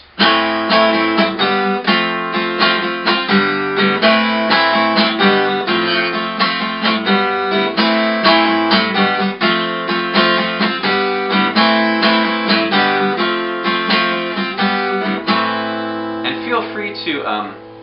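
Guitar chords strummed steadily in a smooth, even rhythm, bright and close, with quick up-and-down strokes and no voices.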